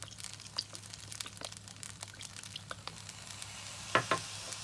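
Soy sauce hitting a hot pan of noodles gives a soft, low sizzle with light stirring scrapes and a couple of sharper clatters near the end.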